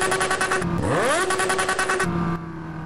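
BMW S 1000RR sport motorcycle in the video game GTA San Andreas revs sharply, its engine note sweeping up and holding in a loud, close buzzing whine, then dropping back to idle, with no talking.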